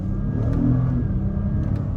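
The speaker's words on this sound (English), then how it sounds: "try to get a couple revs in, just to hear how this motor sounds. So, second gear." Engine of a 2022 Acura MDX Type-S revving in second gear, a steady low rumble with rising engine tone, heard from inside the cabin with no talk.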